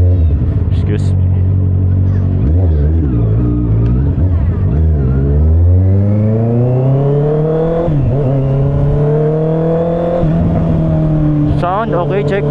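A Honda CBR650R motorcycle engine idles and then revs up, its pitch climbing and falling through several loud throttle blips close by. Someone speaks briefly during the revving.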